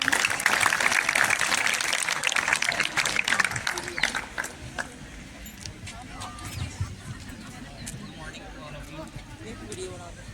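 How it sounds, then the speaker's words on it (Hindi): Children applaud at a Constitution Day school event in a village, the clapping dense and fairly loud at first, then thinning out and fading under background voices and chatter. "तालियों के साथ इसका उत्साह बढ़ाएं"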